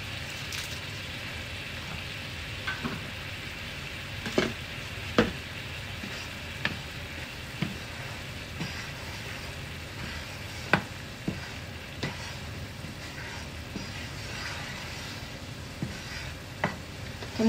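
Chicken bouillon cubes melt in a hot pan, giving a soft continuous sizzle with occasional sharp pops and stirring clicks scattered through the quiet frying bed.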